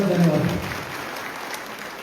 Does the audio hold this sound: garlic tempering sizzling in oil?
no